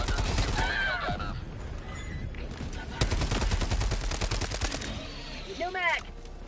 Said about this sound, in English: It's literally getting pelted on with the Gatling barrage.